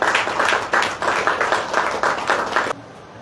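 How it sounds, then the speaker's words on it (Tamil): Audience applause welcoming yoga presenters at an event, a loud burst of many people clapping in uneven pulses that stops abruptly, leaving quiet room tone. "அவர்களுக்கும் நம்ம வருக என்று நல்ல பலத்த கரகோஷத்தோடு வரவேற்போம்"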